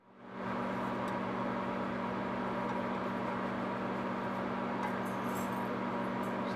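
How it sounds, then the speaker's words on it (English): Microwave oven heating tomato soup, a steady low hum with a faint whirring fan that starts up and then runs evenly at a moderate level, with no talk. "And then to the soup, I'm going to head back into the microwave."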